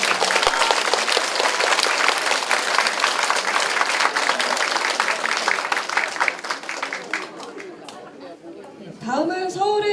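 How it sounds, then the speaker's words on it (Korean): An audience at a campaign office opening ceremony for a National Assembly candidate in Mapo, Seoul, applauds loudly and steadily, the clapping thinning toward the end as a voice begins speaking. "다시 한번 뜨거운 박수 부탁드립니다."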